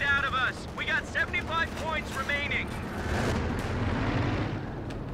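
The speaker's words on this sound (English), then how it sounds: "They are being fired right now at the Panther" AT grenades strike a Panther tank in Company of Heroes 2, a dense rumble of explosions and artillery-like booms swelling through the second half, with a voice talking over the opening seconds.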